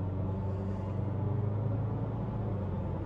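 A 2024 Subaru Crosstrek in Eco Mode builds speed slowly, its engine giving a steady low droning rumble inside the cabin that barely changes across the stretch.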